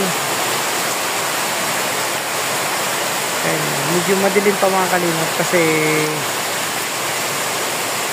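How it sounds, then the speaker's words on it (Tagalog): Heavy typhoon rain pouring outside before dawn, a dense steady roar throughout, with someone speaking briefly over it partway through. "Malakas ang ulan."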